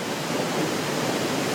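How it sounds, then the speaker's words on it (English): A steady, dense roar of falling water from a waterfall cascading over resistant volcanic rock in a gorge at Mt Rainier, continuous and even throughout with no voices. "this is a perfect example of a waterfall"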